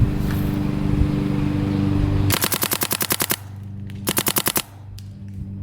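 A Go4 10.5 paintball marker fed by a Dye Rotor LTR hopper fires in two loud, close bursts of rapid, evenly spaced shots, with a short pause between them.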